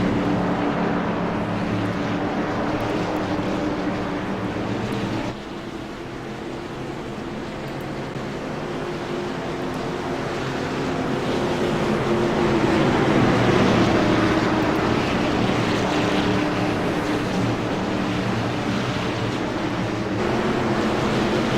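Pack of race cars on the oval at Texas under green flag racing, a dense continuous roar of engines swelling louder as the field passes, with no talk.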